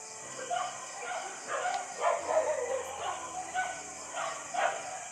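A dog at home barks and yips in several short bursts spaced through the stretch, moderately close, over a steady high background hiss, with no talking.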